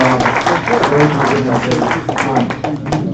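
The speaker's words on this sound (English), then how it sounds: "I want to give a big round of applause for Don, Rahit, and Harry." A meetup audience applauds, with dense clapping from a crowd and continuous overlapping voices throughout, fairly loud and close.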